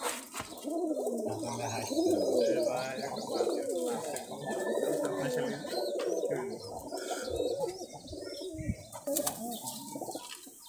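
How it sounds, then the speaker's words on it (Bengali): A pair of large Giribaz pigeons coo steadily and close by, with wing flaps and a few chirps among the layered calls. "এই হচ্ছে এক জোড়া কবুতর"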